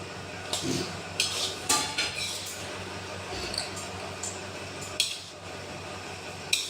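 Tomato sauce and capsicum are mixed in a pan for egg fried rice. A spoon clinks and scrapes against the metal in irregular strokes over a soft, steady background, close by.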